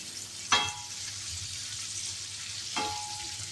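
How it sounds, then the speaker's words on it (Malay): Steady frying sizzle of onions in oil, fairly quiet, with two brief stirring scrapes breaking through; no one speaks. "Kita goreng sekejap sampai dia golden brown."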